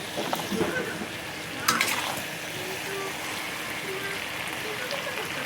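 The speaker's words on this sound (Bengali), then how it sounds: "আর এখানে শাক ভাজা হচ্ছে, এখনো হয়নি।" Greens sizzle and crackle in a pan with a steady frying hiss, a few louder spatters along the way, and faint voices in the background.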